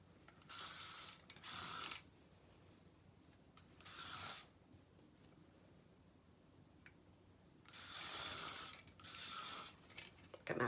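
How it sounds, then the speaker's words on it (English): Hairspray hisses from an aerosol can onto braided hair in several short bursts, roughly five separate sprays with quiet pauses between them, close and fairly soft, with no talking. "I like to finish with a little bit of hairspray."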